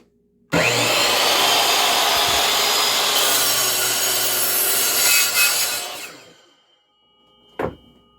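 Power saw cutting wood, guided by a laser line, in a small workshop room: a loud, close whining rasp that starts abruptly, holds steady for about five seconds, then spins down, followed by a brief knock.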